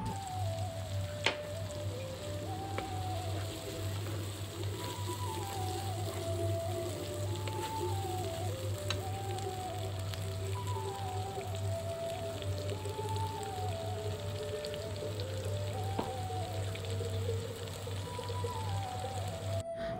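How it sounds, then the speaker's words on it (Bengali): Spice paste for an egg and potato curry sautéing with a little water in a pan, a steady soft sizzle and bubbling running throughout under a low constant hum and a background melody. "আর সামান্য একটু পানি দিয়ে আমি মশলাটাকে একটু ভালো করে কিছুক্ষণ কষিয়ে নিব"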